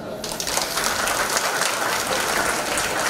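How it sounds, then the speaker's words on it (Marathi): A crowd at a Shiv Sena political gathering claps with hands raised, a loud, continuous wash of applause that holds steady throughout with no speech over it. "टाळ्या वाजवा."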